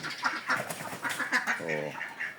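Domestic laying ducks quack close by in a busy overlapping flock, repeated nasal calls tumbling over one another with hardly a gap.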